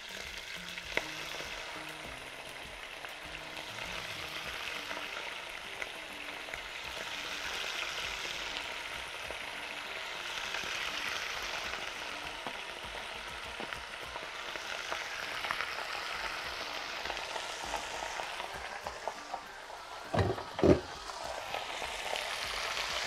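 A steak frying in oil in a pan, giving a steady, close sizzle throughout with faint stirring, and a couple of louder pops or utensil knocks near the end.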